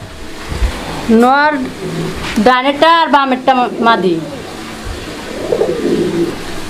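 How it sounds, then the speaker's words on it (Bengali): Mundian fancy pigeons at a pigeon farm cooing in soft, close, warbling bursts, mixed with people talking nearby. "এখানে আরও একজোড়া কবুতরের কালেকশন আছে মুন্ডিয়ান কবুতর"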